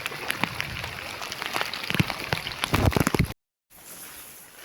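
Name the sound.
rain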